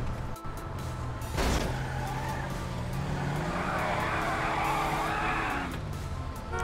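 Tires squeal as a car skids on a street in GTA 5, a sharp loud screech followed by a sustained engine roar and sliding tire noise, with no talk.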